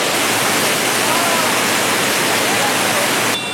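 Amboli waterfall in dense forest, a loud continuous rushing roar of falling water, close and steady throughout with no break.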